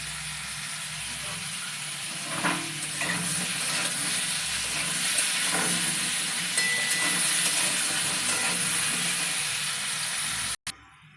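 Potatoes frying in a pan of hot oil, salted, give a steady broad hiss with faint crackles that runs without a break for about ten seconds before cutting off abruptly near the end.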